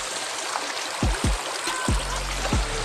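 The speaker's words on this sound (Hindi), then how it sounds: "जहाँ पानी गिर रहा है ना" A stream of falling water rushes steadily as a broad, close hiss, with several low thumping knocks scattered through it and no voices.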